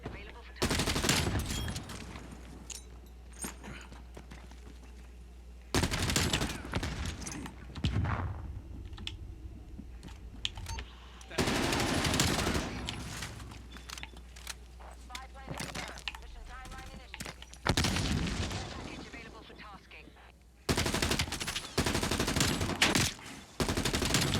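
Gunfire in the video game Call of Duty Cold War, bursts of rapid automatic shots in several volleys, mixed with loud keyboard typing and clicking and a voice talking.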